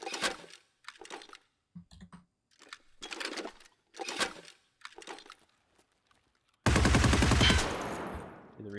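A light machine gun in Escape from Tarkov cuts loose in one long, loud, rapid burst of tightly packed shots that fades into a ringing tail, following several short, dense bursts of similar clatter.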